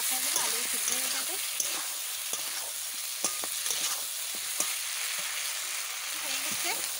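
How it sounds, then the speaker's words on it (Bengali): Chicken and potatoes frying together in a pan, a steady close sizzle with scattered clinks of stirring, and a voice talking briefly near the start and end. "এবারে মাংসের সাথে একেবারে কষাই দেবো, আলু সিদ্ধ হয়ে যাবে।"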